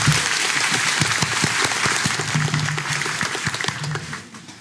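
A live audience claps steadily throughout at a stage performance, dense and fairly loud, thinning slightly toward the end, with a brief voice or tone briefly audible underneath.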